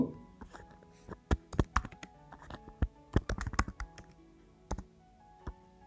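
Fingers type a first and last name on a computer keyboard while filling in an online account sign-up form: a close, uneven patter of crisp key clicks in short bursts with brief pauses between them.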